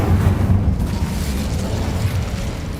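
The Incendio fire spell cast in Hogwarts Legacy bursts out as a loud, low, rumbling whoosh of flame that sustains for a few seconds before easing slightly.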